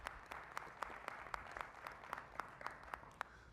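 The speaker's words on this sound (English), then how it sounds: "Let's all give her another big round of applause." A round of applause for a board partner at an advisory board meeting on HBCUs: steady clapping from a modest crowd in a large room, fairly faint and even, with no voices over it.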